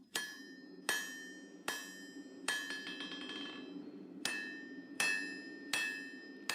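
A hammer strikes hot mosaic damascus steel on an anvil while Bowie knives are forged, sharp ringing blows repeated at a steady, close rhythm with a brief pause midway.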